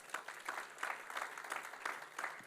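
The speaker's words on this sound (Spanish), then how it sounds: "Aplaudan al Señor entonces" A church congregation claps in praise, a faint, distant pulsing of applause with a loose rhythmic beat, heard alone.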